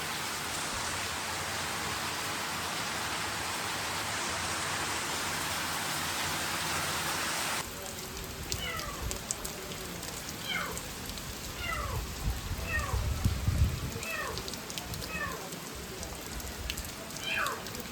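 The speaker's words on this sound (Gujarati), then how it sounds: "વરસાદ પણ તાકાત થયો" Heavy rain pours as a dense, loud hiss, then eases to a softer patter while high, repeated animal calls sound nearby.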